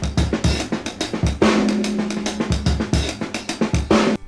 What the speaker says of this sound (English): most known for the Purdy Shuffle, a drum beat that sounds like this.